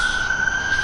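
Sirens wail in the background of an outdoor setting, a steady high tone sustained under a wash of broadband noise, moderately loud and continuous with no voices.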